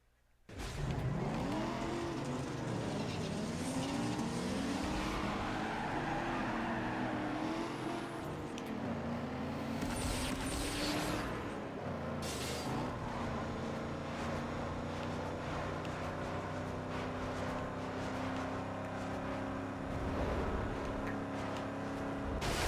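Race car engines in Need for Speed Underground 2 give a loud, steady droning roar with rising revs and bursts of tire squeal throughout, and nobody speaks.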